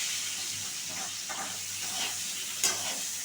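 Pointed gourd pieces with salt and turmeric fry in a pan over a lowered gas flame, giving a steady soft sizzle and hiss with a few faint stirring scrapes and one brief sharper crackle.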